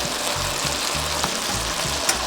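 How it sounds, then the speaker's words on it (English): Saltfish dropped into a hot frying pan for Jamaican ackee and saltfish, giving a steady, loud, close sizzle with a faint rhythmic scraping underneath. "Now I'm gonna add my saltfish."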